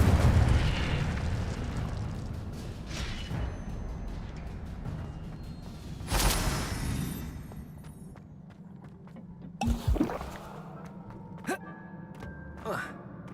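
Incendio, a fire spell from the Hogwarts Legacy video game, is cast with a whooshing burst of flame over a steady game-world rumble. A sharper flare hits mid-clip and a few smaller pops and chimes follow near the end.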